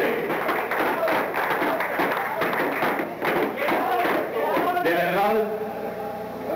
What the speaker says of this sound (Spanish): ahora un aplauso.